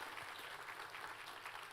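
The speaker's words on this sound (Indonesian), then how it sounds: "Ayo kita kasih tepuk tangan buat Tuhan kita." A church congregation claps for God during a Sunday service, a steady and fairly faint patter of many hands that keeps going without a break for the whole short stretch.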